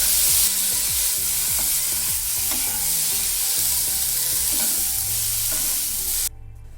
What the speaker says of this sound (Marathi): गॅस या स्टेजला पूर्णपणे फूल ठेवून ही मेथी परतून घ्यायची आहे